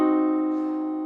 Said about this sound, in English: And I'm talking about the diminished triad,